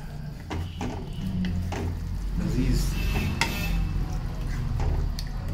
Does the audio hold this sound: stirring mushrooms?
yes